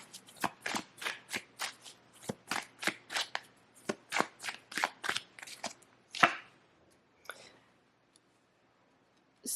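Tarot cards riffled and shuffled in a quick run of about a dozen crisp, close bursts, followed by a couple of slower slaps and taps as the deck settles.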